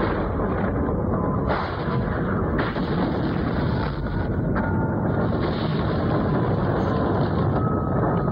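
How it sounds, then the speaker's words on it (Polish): Strong wind buffets the microphone in a steady, loud roar with gusty surges and no voices. "Zdaje się, że wieje tu wyjątkowo zdradliwy wiatr."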